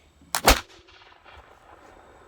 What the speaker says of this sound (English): See if we can get her to kick off here in the first shot.